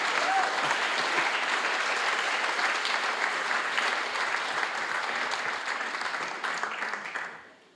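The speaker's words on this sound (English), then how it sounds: "Big round of applause." An audience at the closing of the EuroTeQaThon at CTU in Prague applauds in a dense, steady wash of clapping that holds for several seconds, then fades out.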